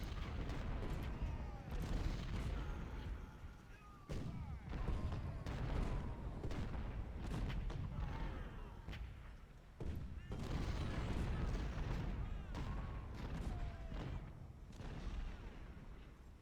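Rapid, overlapping booms and cracks of cannon canister fire and gunfire in the video game Ultimate General: Civil War, a continuous battle din, dense and rumbling throughout.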